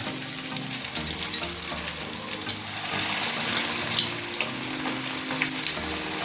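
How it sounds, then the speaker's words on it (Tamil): Fish fingers deep-frying in hot oil in a kadai, a dense, steady crackling sizzle with bubbling and spattering, loud and close, swelling briefly midway as the oil churns. "எண்ணெய் நல்லா காஞ்சிச்சு. ஃபிஷ் ஃபிங்கர் ஒன்று ஒன்றா போடலாம்."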